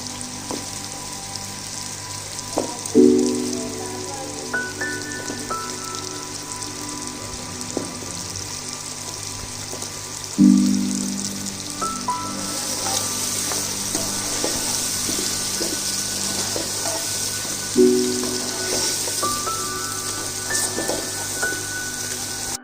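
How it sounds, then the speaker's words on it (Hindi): Potatoes fry in a pan with continuous sizzling, broken by a few louder clatters as they are tossed or stirred, and intensity grows toward the end. "आलू की भुनाई कर ली है"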